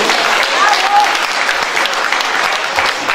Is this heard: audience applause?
yes